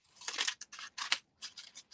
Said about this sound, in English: I will be cutting off the ones that are next up for these. Will be cut with the ribbon cutter.